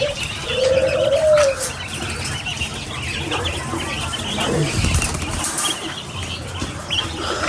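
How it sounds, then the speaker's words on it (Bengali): Quails in a cage give a short, rising call near the start, followed by softer chirps and cage rustling against steady background noise. "এখন আমরা আমাদের কোয়েল পাখিরে এখান থেকে সরাইয়ে এই খাঁচায় দিয়ে দিব"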